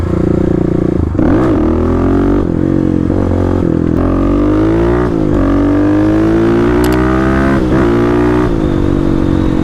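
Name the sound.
Kawasaki KLX 250 motorcycle riding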